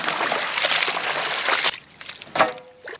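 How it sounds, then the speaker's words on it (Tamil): Water poured steadily in a splashing, sloshing stream for about a second and a half, then breaking into brief gurgling trickles and a final splash. "தண்ணி ஊத்தவா. ஊத்தி ஊத்தி ஊத்தி."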